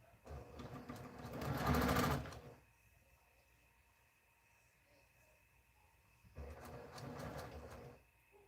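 A sewing machine chain-pieces quilt blocks in two quick runs of fast, rattling stitching, each lasting a couple of seconds, separated by a quiet pause with faint room hum.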